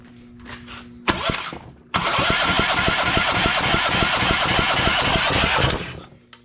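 A Honda GX390 single-cylinder engine, fitted with its intake valve rocker arm, cranks over during a compression test, giving a loud, steady run of rapid chugging compression strokes for several seconds after a brief start.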